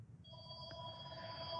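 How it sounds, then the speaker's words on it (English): A telephone rings in the background of an indoor room, a steady electronic double-tone bell that holds through the whole moment at a fairly faint level, with no voices over it. "I apologize for the phone in the background."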